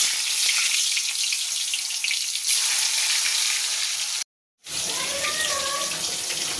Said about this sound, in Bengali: এই যে ভালো করে একটু মাখিয়ে নিই নুন হলুদটা, মাখিয়ে এই যে তেলে ছেড়ে দিই।